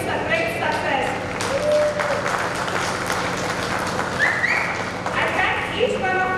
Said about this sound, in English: A big applause to our batchmates for coming together to make this a great success.